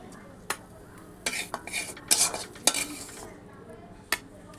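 Food is stirred in a pan with a utensil: scattered scrapes and clinks of metal against the pan over a faint background sizzle, close by and intermittent.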